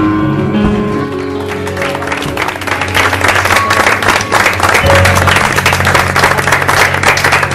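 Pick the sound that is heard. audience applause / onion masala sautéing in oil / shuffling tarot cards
audience applause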